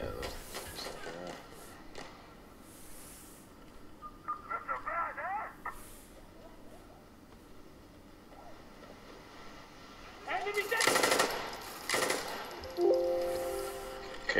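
Video game gunfire plays through the built-in speakers of a Lenovo C940 laptop: scattered shots and a dense burst near the end, mixed with game effects and a voice talking.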